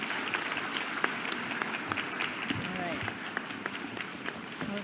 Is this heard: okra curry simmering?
no